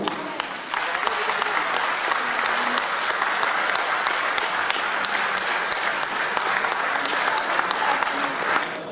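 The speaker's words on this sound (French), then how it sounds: "allez on applaudit l'ensemble de la troupe" Sustained applause from a crowd at a cycling race prize ceremony for the Routes de l'Oise riders, steady and dense throughout with no break, with a few louder claps rising out of it.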